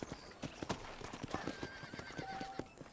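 A horse in the video game Red Dead Redemption clops along with uneven hoof beats, then gives a high whinny, close and moderately quiet, with no speech over it.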